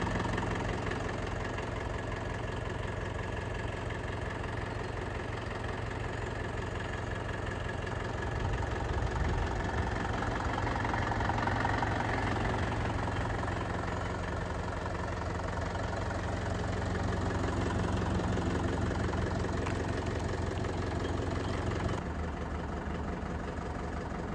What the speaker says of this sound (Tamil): இந்த டிராக்டர் பார்த்தீங்கன்னா மகேந்திராவில் அர்ஜுன் நோவா 605 டிஐங்க.